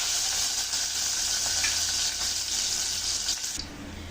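Crushed garlic frying in hot oil for pepper rasam, a steady close hiss and sizzle that carries on evenly before dropping away near the end.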